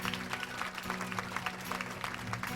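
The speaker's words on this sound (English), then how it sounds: "The crowd applauded and stood" Wedding guests applaud after a ceremony, a steady patter of many hands clapping at moderate distance, dense and even throughout with a low hum beneath.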